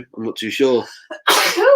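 A person sneezes loudly and sharply at close range right after another voice speaks briefly, in a casual pub setting before an England versus Ukraine football match.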